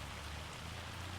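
Steady, even rain falling in Farming Simulator 25, a soft continuous patter with no voices.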